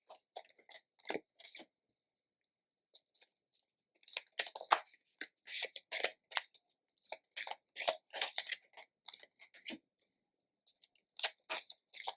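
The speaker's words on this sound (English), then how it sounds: "So I have your cards here in my hand, and I'm just going to shuffle them" Tarot cards are riffled and shuffled close up in bursts of papery crackling and flicking, with short pauses between rounds and no voices.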